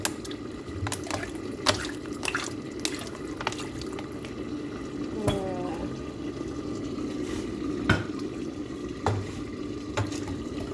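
Cold tap water runs to rinse food, a steady splashing flow in a sink punctuated by scattered clinks and knocks of handling, moderately quiet, with no voices.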